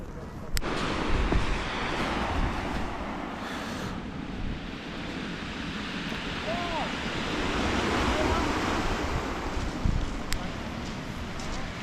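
Sea waves washing against the shore at the Durdle Door coast, a steady roar of surf mixed with wind buffeting the microphone, with a person talking over it.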